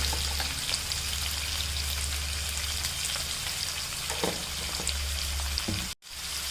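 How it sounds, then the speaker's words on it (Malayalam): Sliced onions sautéing with a pinch of salt in a hot pan give a steady close sizzle and crackle throughout, with a few soft clinks partway and a sudden brief dropout near the end. "അത് നമുക്കൊരു ശകലം ഉപ്പിട്ടൊന്ന് വഴറ്റിയെടുക്കാം."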